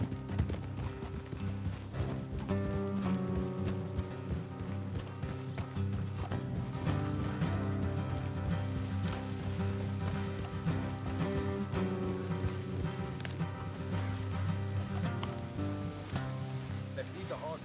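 Horses' hooves clip-clop steadily at a walk in Red Dead Redemption 2, close by, under game music and ambient sound, with voices talking over them.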